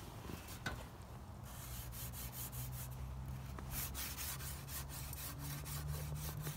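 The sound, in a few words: sharpening an aluminum license plate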